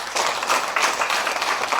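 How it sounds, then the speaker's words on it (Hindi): An audience at a direct-selling business meeting breaks into brief, dense applause, a steady wash of many hands clapping for under two seconds. "तो परमपिता परमात्मा के लिए भी एक जोरदार तालियां हो जाए"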